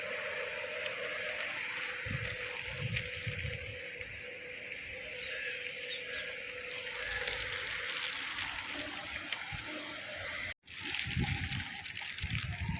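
A continuous rushing of fast floodwater after heavy rain, broad and steady throughout, with a brief dropout near the end.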